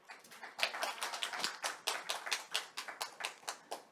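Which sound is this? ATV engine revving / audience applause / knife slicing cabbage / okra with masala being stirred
audience applause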